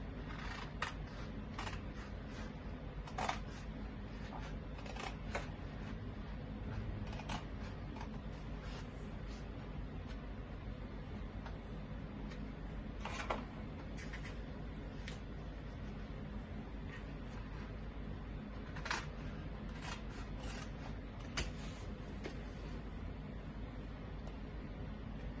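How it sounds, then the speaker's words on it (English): Scissors cut bodice pattern paper along the back neckline in soft, scattered snips over a quiet hiss, faint and close. "And then I'll cut the back neckline."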